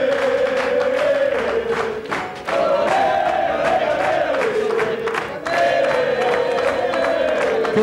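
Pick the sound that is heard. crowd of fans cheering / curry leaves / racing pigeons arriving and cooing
crowd of fans cheering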